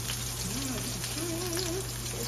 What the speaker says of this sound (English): They're sizzling, y'all.